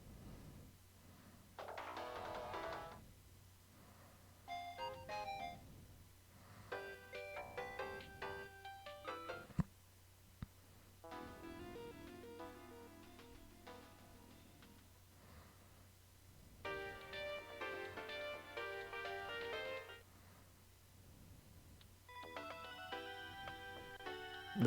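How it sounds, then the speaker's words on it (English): Ringtone from a phone in the Steins;Gate visual novel, a tinny electronic melody playing in repeated bursts with short pauses between phrases, clear and alone over a low background hum. "Phone ringtone."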